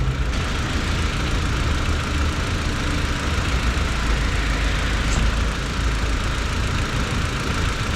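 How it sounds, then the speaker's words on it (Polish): An Audi A4 B6 sedan engine idles steadily for several seconds, a constant close rumble with a faint knocking texture and no voices. "Silnik pracuje, to zobaczmy czy jest ładowanie."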